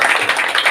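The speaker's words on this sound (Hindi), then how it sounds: "तालियां बजाओ इसके लिए एक बार" A group of students clapping in a library classroom in Badanpur, Jind, Haryana, a brief, dense burst of applause heard close and steady throughout.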